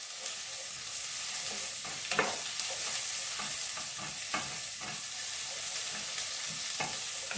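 Onions sizzling and frying in a hot sauté pan, a steady crackling hiss with occasional louder pops and stirring scrapes, alone without speech.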